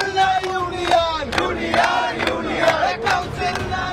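Students chanting slogans demanding student union elections at a Jadavpur University convocation ceremony, a dense crowd of voices shouting in steady rhythmic bursts throughout, loud and near.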